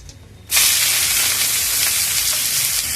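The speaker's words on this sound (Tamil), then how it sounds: "வதக்கிக்கலாம் ஃப்ரெண்ட்ஸ். வெங்காயம் சிம்மிலேயே வதங்கட்டும் ஃப்ரெண்ட்ஸ்." Onions and curry leaves hit hot oil with mustard seeds in a pan. A loud, steady sizzle starts abruptly about half a second in and continues without a break, close up, with no voices.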